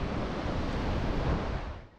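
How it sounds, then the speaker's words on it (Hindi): River water roars at the confluence of the Sutlej and Spiti rivers at Khab, a steady broadband rush that fades slightly at the end, with no talk over it. "तो गाइस, ये है सतलुज रिवर और ये है स्पीति रिवर।"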